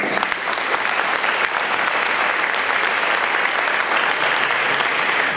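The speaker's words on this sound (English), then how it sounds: "So give them a round of applause, please." Loud, sustained audience applause at an FFA awards banquet, a thick even wash of many hands clapping at once without pause.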